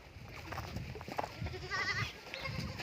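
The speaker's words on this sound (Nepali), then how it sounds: "बाख्रा देख्न सक्नुहुन्छ" Goats bleating on a goat farm, several short calls close by over faint background noise, with no talking.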